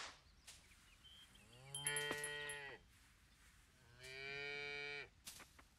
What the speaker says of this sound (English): Those are some happy cows.